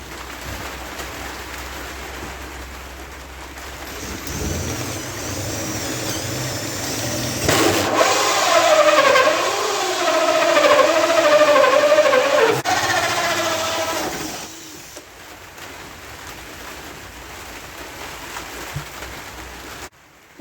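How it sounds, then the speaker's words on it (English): Heavy rain pours down outside a cabin, heard from indoors as a continuous broad hiss that swells louder through the middle and then eases back to a steady wash. "it is just chucking it down"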